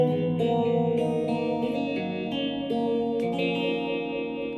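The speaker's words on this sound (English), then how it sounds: "give it a kind of a lush rotating speaker chorus kind of a sound" Sustained guitar chords through a Blackstar ID Core Stereo 10 V3 amp's pitch modulation effect shimmer and warble like a spinning speaker swirling the tone, with echoes blending underneath.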